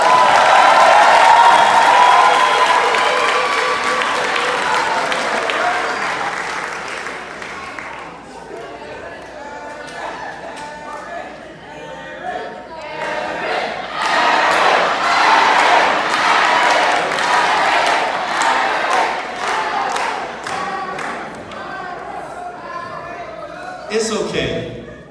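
A crowd at a beautillion pageant claps and cheers to urge on a struggling contestant, a dense burst of applause swelling after an opening stretch of talk and continuing loud with scattered whoops near the end.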